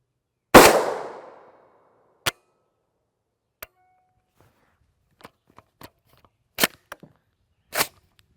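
A subsonic 8.6 BLK rifle, an 8-inch Faxon-barrel PSA build with 1-in-3 twist firing 285 gr ELD-M loads, cracks out one loud, close shot with a short decaying tail, followed by scattered quieter clicks and metallic clanks.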